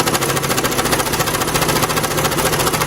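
A sewing machine, being adjusted, runs steadily as its pedal is pressed, giving a loud, continuous, rapidly pulsing mechanical whir close by that holds an even level throughout.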